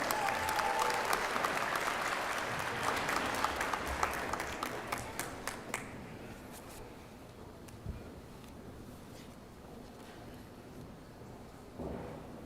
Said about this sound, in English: Please join me in applauding the graduates from the College of Arts and Sciences.